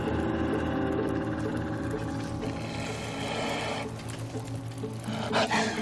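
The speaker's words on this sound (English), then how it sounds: "Yeah, you got quite a growl on you." An animal growling in The Long Dark, a low, sustained, throaty rumble with a buzzing edge that continues for several seconds and rises briefly near the end.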